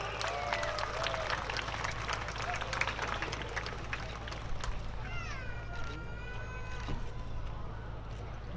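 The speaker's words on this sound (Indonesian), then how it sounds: "tepuk tangan yang paling meriah" Audience applause at the 2019 Bali PORPROV provincial sports opening ceremony in Tabanan: a dense, sustained patter of clapping from a large crowd, with scattered whistles and cheers woven through it.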